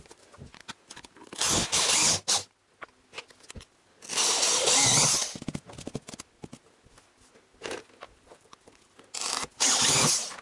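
Homemade screw anchors being driven in during building work, heard as three loud bursts of power-driver whirring separated by quieter handling clatter and knocks.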